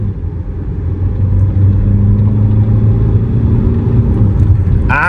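A Tata Sierra 2025 diesel SUV accelerating, heard from inside as a steady low engine drone and road rumble that swells slightly and holds, loud and close, with a brief noise burst at the end.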